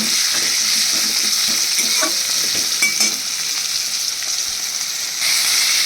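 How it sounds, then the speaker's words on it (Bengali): Fish and potatoes frying in oil, an intense close sizzle and hiss with occasional stirring clinks and scrapes, continuous and loud with no talk. "এবার লাল লাল করে ভাজা হয়ে যাচ্ছে"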